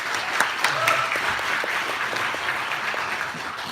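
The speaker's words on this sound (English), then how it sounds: "Everybody give Grace a round of applause." Church congregation applauding together in a sanctuary, a steady wash of clapping hands that holds at an even level from start to finish, with a few scattered voices mixed in.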